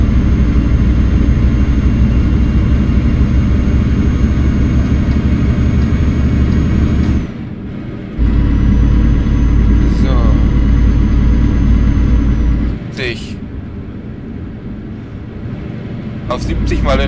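A truck with an upgraded, stronger engine climbs a hill in Euro Truck Simulator, giving a loud, steady, low engine drone that dips twice into brief near-silent gaps before resuming.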